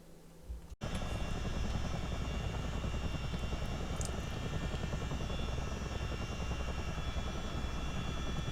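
CH-47D Chinook tandem-rotor helicopter in a flight simulator game, its engines and rotors running at a steady loud roar after a brief quieter start, with continuous rhythmic rotor chop and a high turbine whine throughout.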